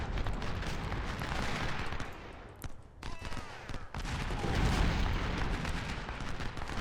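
Howitzer artillery booms in a Civil War strategy game at the battle of Fredericksburg, a dense continuous barrage of cannon fire and volleys with a brief lull midway, dull and roaring without speech.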